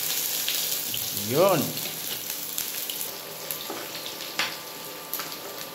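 Onions sautéing over low heat in a frying pan, a steady hiss and sizzle running throughout with a brief spoken word partway through.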